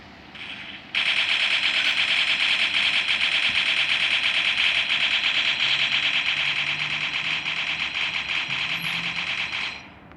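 Automatic gunfire in the shooter game Crisis Action: one loud, unbroken rapid-fire burst lasting about nine seconds that starts abruptly and cuts off, with a faint hum underneath.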